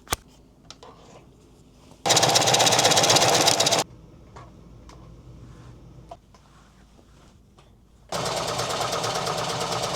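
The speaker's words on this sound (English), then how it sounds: "let's get to sewing. Sewing ASMR." A sewing machine stitches an upcycled clothing top in two loud bursts of rapid, steady whirring. Quieter rustling and handling noises fill the gaps between the runs.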